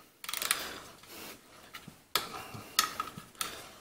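A driver turns a bolt crusted with buildup on a Briggs & Stratton engine, giving a few close, gritty ratcheting bursts separated by short pauses.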